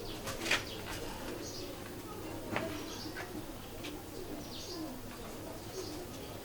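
Red-eyed pigeons cooing together in a loft, with soft repeated coos under steady low background noise and brief calls rising at intervals.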